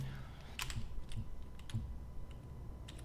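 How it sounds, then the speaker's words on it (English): Someone types on a computer keyboard, giving a series of quick, light key clicks in an irregular rhythm, fairly quiet over a low background hum. "I'm on the keyboard at the moment."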